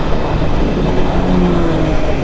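Honda CBR1000RR sport motorcycle engine heard while riding: a loud, steady, close roar with wind rush and no clear rev changes, heard alone without talk.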